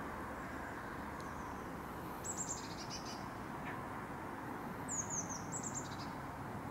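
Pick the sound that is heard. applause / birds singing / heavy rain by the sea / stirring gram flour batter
birds singing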